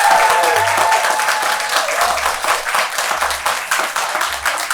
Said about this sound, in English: Can we give another massive round of applause for the choir?